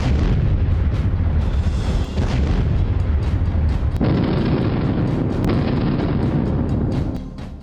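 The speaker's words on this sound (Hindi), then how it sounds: "रूस ने फिर मिसाइलें गिराई।" Heavy, continuous booming and rumbling from missile strikes in Ukraine, loud and sustained with layered blasts throughout, fading slightly at the end; no one speaks.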